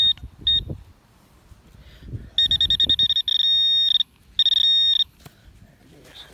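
A metal detector sounds its target tone in a Civil War camp site in Beaufort, South Carolina: high, pulsing electronic beeps in short bursts and longer warbling stretches, heard close, with soft digging and rustling noises in between.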